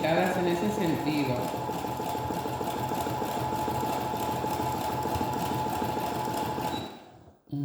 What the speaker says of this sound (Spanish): Es que nuestra máquina no es una máquina que abre y cierra el zigzag